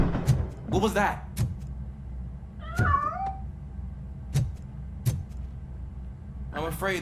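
Several short cat meows, some rising and wavering, repeat at intervals in the RoboCop: Rogue City video game, with a faint mechanical hum beneath and a voice speaking nearby.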